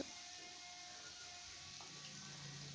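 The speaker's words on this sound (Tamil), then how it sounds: "நல்லா பொரிச்சு எடுத்துக்கலாம்" Cauliflower pieces for gobi 65 fry in hot oil with a soft, steady sizzle and crackle that holds faint and even throughout, with no voices.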